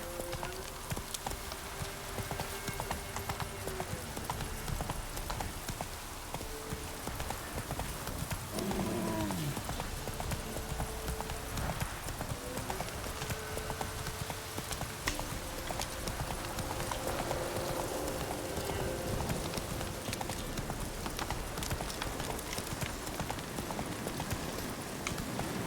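Horse hooves clip-clopping at a steady gallop in The Witcher 3 video game, a continuous rhythmic drumming over a dense game soundscape with a brief whinny partway through.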